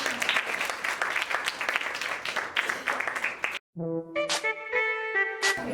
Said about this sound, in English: Can we again have a round of applause?